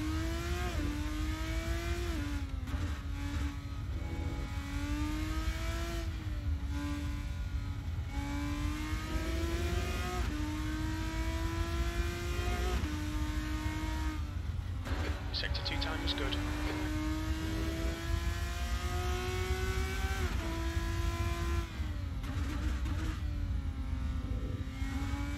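Race car engine in the Assetto Corsa driving game, loud and steady, revving up through gears with repeated rising whines and brief drops at shifts, running continuously throughout.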